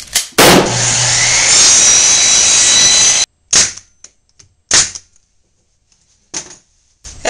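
A power saw cutting wood trim for a flower box: a loud, steady whining cut of about three seconds, then several short separate bursts as the blade spins up and cuts again, with silence in between.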